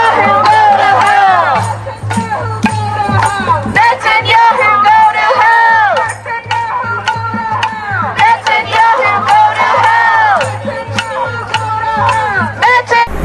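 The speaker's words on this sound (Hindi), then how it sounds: "भीड़ के जोर जोर से नेतन्याहू नरक में जाओ के नारे लगाते हुए सुना जा सकता है" Protesters chant slogans against Netanyahu outside the Watergate Hotel, a loud crowd of voices shouting in repeated rhythmic waves that stay close and continuous throughout.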